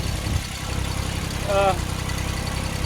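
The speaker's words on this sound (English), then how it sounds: "Hope y'all can hear me over the tractor." A tractor engine idles with a continuous low rumble and vibration, loud and close, with a brief voice-like sound rising over it.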